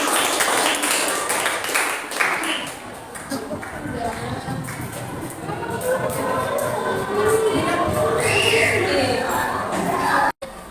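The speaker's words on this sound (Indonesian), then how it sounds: "beri tepuk tangan untuk kelompok 6" An eighth-grade class applauds a student group after its presentation in a school classroom, a scattered, moderately loud clapping that swells under chatter and murmuring voices.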